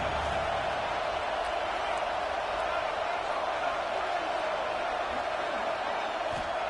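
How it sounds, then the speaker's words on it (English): A football stadium crowd at Bama vs Ohio State keeps up a dense, continuous roar of cheering and noise at steady loudness, with no single voice standing out. "this crowd is fired up. Listen to this noise here"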